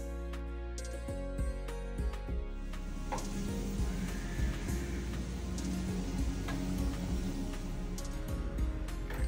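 Keropok crackers frying three at a time in hot cooking oil, a steady close sizzle with scattered ticks and small pops throughout, no talk over it.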